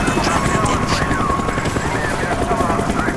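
A helicopter in Call of Duty: Black Ops throbs loud and close with a continuous rotor roar, while voices speak over it throughout.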